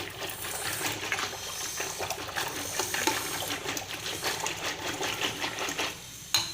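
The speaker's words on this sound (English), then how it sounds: "So let me add water." Water is poured into mashed dal while making Gujarati dal, a close, steady trickle and splash that runs for several seconds before a brief pause.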